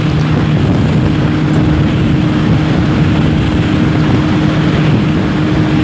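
Kawasaki ZX10R sport motorcycle being ridden, a steady loud engine drone mixed with heavy wind rush, continuous with no talking.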